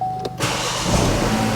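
A car engine cranks briefly then catches instantly, settling into a steady idle hum, close and clear with no talking.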